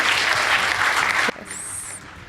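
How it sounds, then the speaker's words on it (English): Loud applause from the audience at a secondary school debate contest, a dense crowd clapping that cuts off abruptly after about a second, leaving quieter room sound and a brief high tone. "Please give them a round of applause."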